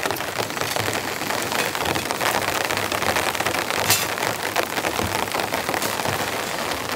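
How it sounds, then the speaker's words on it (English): Heavy rain pours steadily onto a camping tent with little wind, a dense, continuous patter that stays close and even throughout, with no voices. "I think the rain's just gonna get heavier from here on out"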